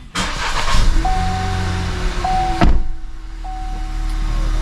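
A 2021 Buick Encore GX with the 1.2 turbo engine starts with a brief crank and settles into a steady idle, heard close from the driver's seat with chimes and a thump in the cabin.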